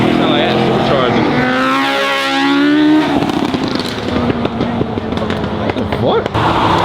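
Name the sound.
supercharged car engine revving at car meet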